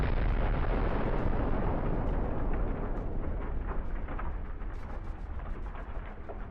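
A tank's ammunition cooks off after a kamikaze drone strike on a battlefield, a loud, sustained roaring blast with dense crackling and popping that continues for several seconds and fades slightly toward the end.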